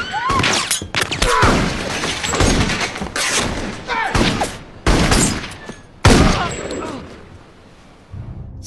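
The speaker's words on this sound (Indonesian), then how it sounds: "Setelah Sean memberikan tembakan perlawanan, 1 orang penyerang berhasil Sean lumpuhkan." Film shootout gunfire: loud bursts of gunshots and crashing impacts in several separate volleys, with brief gaps between them.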